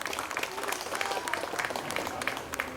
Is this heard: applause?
yes